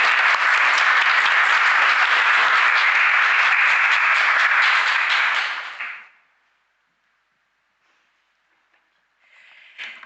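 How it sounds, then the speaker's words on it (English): Applause for a report team at a parliamentary event for Access Matters Aotearoa, a loud, dense burst of clapping lasting about six seconds, then cutting off into near silence before a faint new sound at the end. "a big round of applause to the team for the report"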